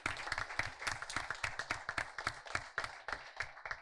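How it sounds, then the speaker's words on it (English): An audience at an inter-secondary school debate semi-final bursts into steady, dense applause, many hands clapping close and fairly loud for a few seconds with no talk over it. "Please give them a round of applause."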